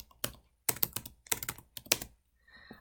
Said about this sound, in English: you'll see I didn't type in Brandy's full name